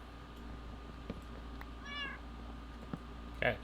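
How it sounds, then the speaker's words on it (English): A cat meows nearby, a short wavering cry in the middle and another sharper one near the end, against a steady low room hum, with no talking. "Cat, shut the hell up."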